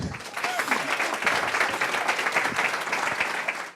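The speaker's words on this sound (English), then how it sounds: "Everyone, please give Faye and Chris a huge round of applause." Audience at a marketing meetup in Cambridge applauding two guest speakers, a steady round of clapping that swells quickly, holds for several seconds and cuts off abruptly at the end.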